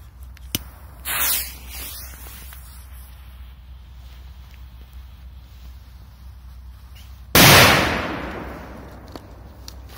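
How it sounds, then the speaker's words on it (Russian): A K-22 firecracker goes off outdoors: a small sharp pop with a short burst early on, then one loud, broad blast that decays over a second or so against steady wind rumble. "дальше петарда К-22"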